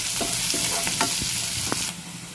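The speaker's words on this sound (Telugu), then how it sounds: "పచ్చిమిర్చి ముక్కలు, ఉల్లిపాయ ముక్కలు వేసుకొని ఫ్రై చేసుకోవాలి" Chopped green chillies and onions frying in a pan, a steady close sizzle with a few brief scraping stirs, cutting off near the end.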